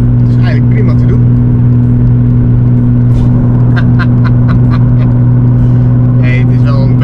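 A Nissan GT-R R35 with a stage 5 tune idles with a deep, steady engine drone right up close, and someone speaks over it throughout.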